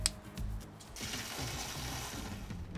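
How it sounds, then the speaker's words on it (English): Crank handle on a Hoselink 10m compact portable hose reel turned to wind the hose back in, giving a quiet, close run of ratcheting clicks and gear whirr. "simply turn the crank handle to wind the hose neatly back inside"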